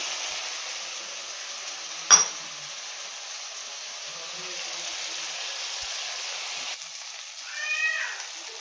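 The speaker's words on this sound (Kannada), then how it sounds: "ಟೊಮ್ಯಾಟೊ ಕೂಡ ಸೇಮು ಸಾಫ್ಟ್ ಆಗೋ ತನಕ ಫ್ರೈ ಮಾಡ್ಕೊಬೇಕು." Tomatoes frying with onions and a little salt in a pan while making beetroot fry: a soft, steady sizzle runs throughout, with a sharp click near the start and a brief squeak near the end, and no talking.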